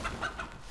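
Chicken clucking from the Dark and Darker video game, a few short repeated clucks at a steady rhythm over a low game background, close and moderately loud.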